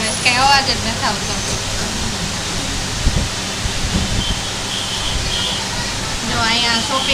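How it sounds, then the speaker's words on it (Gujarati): An electric fan runs steadily indoors, a continuous broadband whoosh with a few brief knocks and rustles over it, and no talk. "આમાં પંખાના જ અવાજ આવે છે, કઈ અવાજ જ નથી આવતો."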